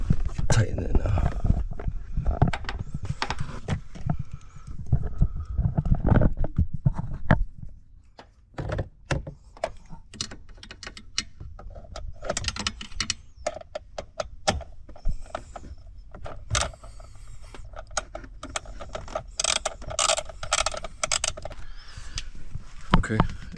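Work on a Honda S2000 soft top: close thunks, clicks and scraping handling sounds come in irregular bursts as a part is tightened, with a person talking quietly in between.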